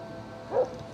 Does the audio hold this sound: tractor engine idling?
no